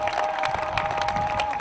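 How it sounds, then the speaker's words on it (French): Crowd applause and cheering at a closing campaign rally for 2018 legislative and local elections in Gabon, dense, steady clapping with a sustained tone over it. "que je vous prie d'ovationner maintenant,"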